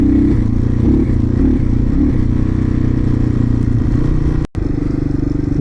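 A cheap $500 motorcycle rides across a golf course, its engine a loud, steady low drone with slight changes in revs, a brief dropout near the end, then the same rumble again.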